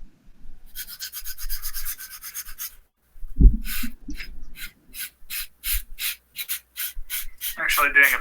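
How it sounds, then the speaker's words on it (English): A hand file rasps across a wooden cosplay staff to cut a bevel, first a steady scraping stretch, then a pause and a series of evenly spaced, close, gritty strokes. "I'm actually doing a bevel on the bottom half of this too."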